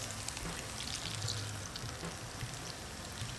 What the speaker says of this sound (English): Now you let it fry until it's golden brown, which is about 2-3 minutes